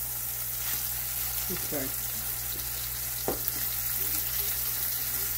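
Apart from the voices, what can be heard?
fish frying in olive oil in a pan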